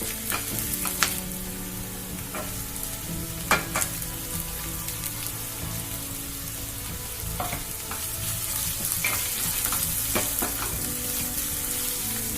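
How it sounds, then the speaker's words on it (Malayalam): Shallots and onion fry in oil in a pan over a medium flame with a steady close sizzle, broken by scattered clinks and scrapes of a spoon stirring. No one speaks. "അതിനുശേഷം 2 മിനിറ്റ് എല്ലാം മീഡിയം ഫ്ലെയിമിൽ വെച്ചൊന്ന് ഇളക്കിയിട്ട് സവാള ചേർത്ത് കൊടുക്കാം"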